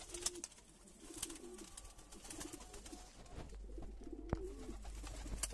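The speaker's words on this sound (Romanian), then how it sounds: "aceștia sunt toți porumbei." About sixteen pigeons coo repeatedly at close range, soft throaty calls over faint background clatter and scattered clicks.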